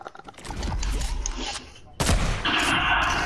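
Sniper rifle shots in a shooting video game, a couple of sharp reports with a booming tail, followed by mechanical clatter, fairly close, with players talking over them.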